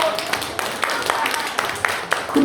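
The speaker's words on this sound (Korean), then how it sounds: "박수!" Lecture audience clapping in a senior college hall, a steady patter of many hands with sharp individual claps standing out, fairly close and continuous throughout.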